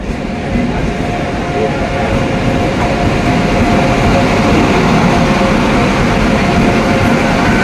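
Darjeeling Mail train at a busy station during boarding, a loud continuous rolling rumble of rail cars with a faint steady tonal hum running throughout.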